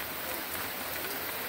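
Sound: rain falling during a rainy day

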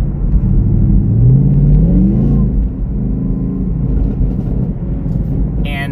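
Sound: car engine revving while driving

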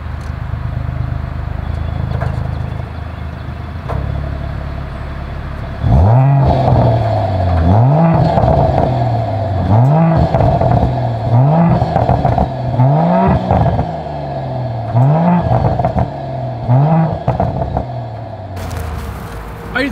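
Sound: Mercedes-AMG GLE 53 Coupe exhaust revving

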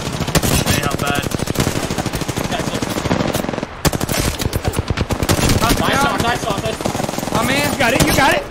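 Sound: gunfire in Apex Legends video game

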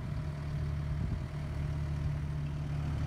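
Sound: tractor engine running

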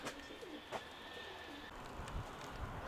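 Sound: pigeon cooing

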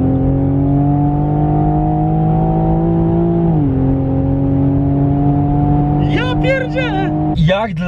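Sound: Toyota GR Supra 2019 engine revving

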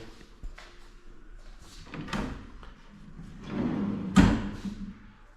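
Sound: drawers being taken out

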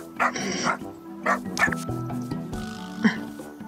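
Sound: dog barking and whimpering in the video game Little Friends Puppy Island

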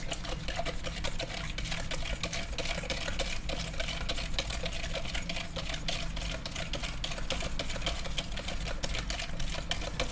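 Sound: mixing salt into sunomono dressing until dissolved

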